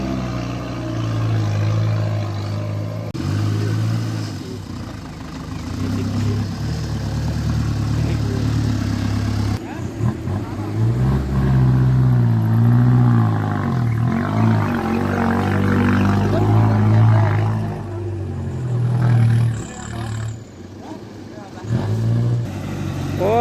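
A small pickup truck loaded with dirt climbs up out of a pond bed, its engine holding a steady low drone with some rising revs, and people talk over it throughout.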